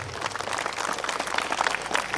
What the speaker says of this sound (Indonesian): tepuk tangan buat Jenderal Lianto.